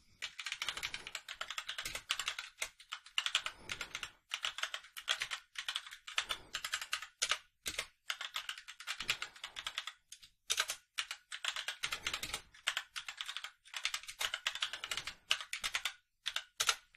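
Continuous fast typing on a mechanical keyboard with brown switches, steady clacky keystrokes with brief pauses, close and fairly loud, no voices.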